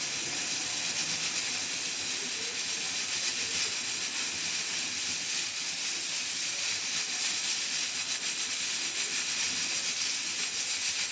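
A pressure cooker on the stove, cooking rice and lentils, releases steam in a steady, loud hiss that runs unbroken for several seconds.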